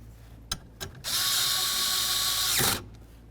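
A power drill snugs mounting bolts during blend door actuator work on the dashboard of a 2006-10 Ford Explorer: two short clicks, then one steady whirring run of about a second and a half that winds down, close and alone.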